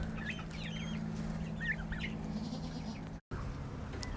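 Chickens and turkeys on a farm cluck in a series of short, chattering calls close by. Low ambient noise runs underneath, with a brief silent gap near the end.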